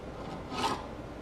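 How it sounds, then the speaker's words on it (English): Hacksaw blade rasping across a clamped steel eye bolt as the cut begins, a short faint scraping stroke that swells briefly in the middle. "Let's go ahead and set the saw on there."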